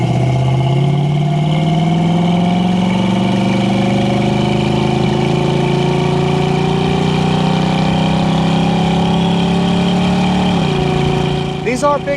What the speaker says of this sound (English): We're cruising at 70 miles an hour right now with no problems of any kind.